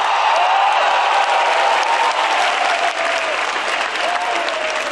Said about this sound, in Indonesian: Beri tepuk tangan sekali lagi untuk Yono Bakri